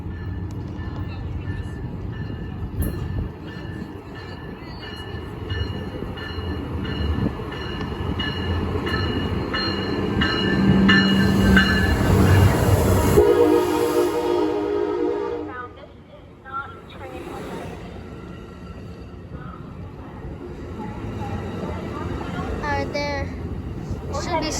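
An Amtrak Surfliner passenger train rolls past close by, a loud sustained rumble with wheel and rail noise that swells to a peak and then drops away, with a person talking over it.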